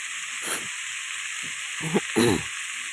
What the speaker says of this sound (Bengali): এটাকে ভালো করে কষাই করতে হবে যাতে সব মশলাটা ভিতরে ঢুকে যায়